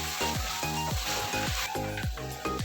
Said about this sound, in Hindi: इसको अच्छी तरह अब हम भून लेंगे।